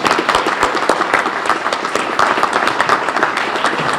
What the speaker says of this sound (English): giving another round of applause to Bill Strauss for all his work.